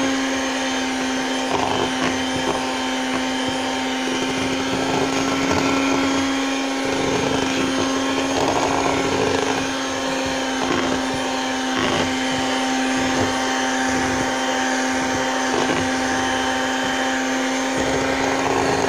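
An electric mixer whirs steadily while blending homemade vanilla ice cream ingredients, a loud continuous motor drone with a constant hum and faint rattling texture, uninterrupted and with no talking.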